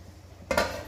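A lid set down on a pot of Bengali mustard fish curry, one short metallic clank with a faint ringing tail, heard close after a quiet low hum.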